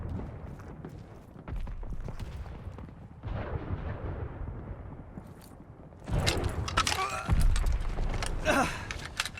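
Heavy machine gun fire and battle explosions in Call of Duty Vanguard, dense booming bursts that swell louder and more rapid toward the end, with no talk.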